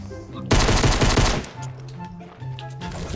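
Gunfire in the Fortnite video game erupts as a loud, rapid burst of automatic shots lasting about a second, then fades into quieter game sounds with faint voices.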